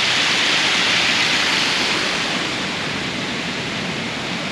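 A waterfall near a beach at Itacaré pours in a steady, loud, dense rushing roar that holds evenly throughout with no other sounds.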